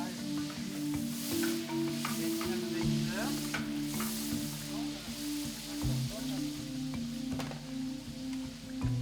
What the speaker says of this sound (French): il faut commencer par faire revenir le gras